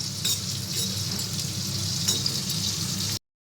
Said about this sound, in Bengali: শুক্তোটা দেবার জন্য একটা ভাজা মশলা করে নিচ্ছি